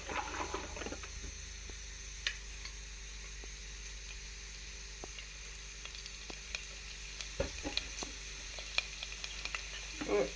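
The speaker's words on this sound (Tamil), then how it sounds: "எண்ணெய் நல்லா காஞ்சிடுச்சு இப்போ வடகம் சேர்த்துக்கிறேன்" Vadagam dropped into hot oil for a village-style brinjal and peanut kara kuzhambu, sizzling and crackling steadily with scattered sharp pops and occasional stirring clicks, close and fairly quiet with no talk.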